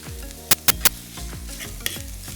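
Barbecue sauce sizzles in a pan while a utensil stirs it, three sharp clinks against the pan early on over a steady bubbling hiss, then softer scraping strokes.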